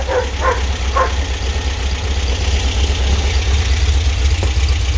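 A 1776cc engine with an Engle W100 cam idles loud and close, its rumble steady and unbroken from start to finish.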